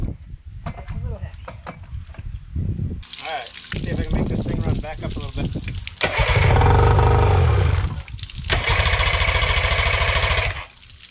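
A small budget outboard boat motor on a tiny boat is pull-started, sputters, then runs in loud, rough bursts between pauses, with people talking nearby in the early part.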